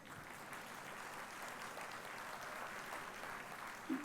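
An audience at the National Teachers Congress gives soft, sustained applause, a faint and distant patter of clapping spread evenly through the hall.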